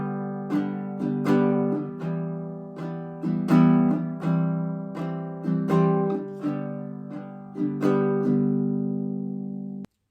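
Bright, close baritone ukulele strumming in a lilting long-short swung rhythm, chords changing every few beats, with no talking.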